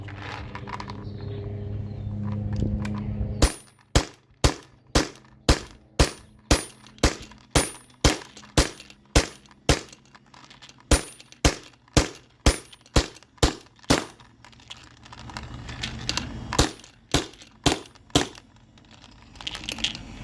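A Valken M17 marker fires from a nearly empty air tank in about twenty sharp, loud, evenly spaced shots, each a crisp pop with a short tail, over faint background hiss.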